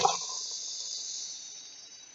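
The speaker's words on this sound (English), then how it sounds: "I'm going to add my vegetables into the pan" Vegetables tipped into a hot deep pan, almost like a wok, give a short burst at the start, then settle into a steady, fairly quiet sizzle that slowly fades.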